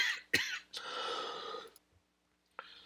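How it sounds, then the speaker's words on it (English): A few sharp coughs near the mic, then a sustained raspy, breathy hacking lasting about a second, followed by quiet and one last short cough. "Sorry, I had a coughing attack there."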